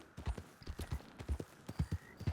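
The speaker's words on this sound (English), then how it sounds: "I thought I heard more hoofs." Horse hooves clip-clop in uneven bursts of close, distinct strikes, several animals moving together in a roleplay western game, with no one speaking.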